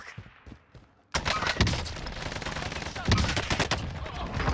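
Sustained, loud automatic gunfire in the Warzone Caldera video game, beginning abruptly after a quiet moment and continuing as dense overlapping bursts with heavy echoing shots.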